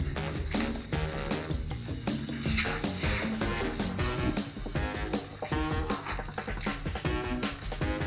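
Food pan frying in butter and oil, a loud, busy close-up sizzle with popping crackles that runs steadily throughout, no talking over it.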